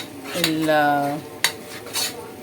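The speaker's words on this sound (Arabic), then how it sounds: "هنحمر الدقيق بتاعنا، يعني مش هنحمره بس كده نشم ريحه الدقيق" Metal utensil scraping and clinking against a pot while flour is stirred into ghee for a roux, with a few sharp clanks, scrapes and a brief tonal ring, close up and without talk.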